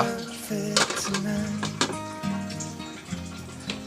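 A metal lid settles onto a boiling pot of fish-ball red curry, producing several sharp clanks and rattles in quick succession over a faint bubbling background.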